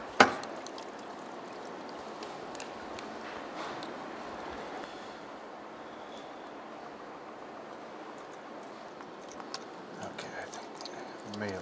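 Water flushes over a deer's torn, injured foot pad on a deer farm, a steady broadband wash of pouring liquid running throughout, close and continuous, with a sharp knock at the start and people speaking briefly over it.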